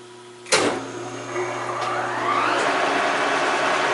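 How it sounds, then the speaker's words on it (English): A K&T 2CH milling machine motor starts with a sharp onset and keeps running at its slowest speed, about 35 RPM. A steady mechanical hum and whine settle in close by, with no talking. "Motor's running."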